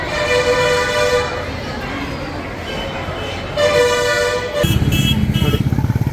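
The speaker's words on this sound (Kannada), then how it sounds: "ಅದೇ ರೀತಿ ಇನ್ನೊಂದು ಗಾಡಿ ಬರ್ತದೆ ನೋಡಿ, ಇಲ್ಲಿ ಟಾಟಾ ಗಾಡಿ ಇದೆ ಯಾವುದೋ ರೀತಿ." At a busy bus stand in Siruguppa, a Tata bus pulls in with a rumbling engine and horn toots over general traffic noise, and the engine chugs loudly near the end while someone talks.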